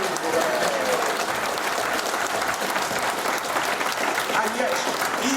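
Audience at a secularist award ceremony applauding, a continuous, even wash of clapping from a large crowd throughout, with faint voices underneath.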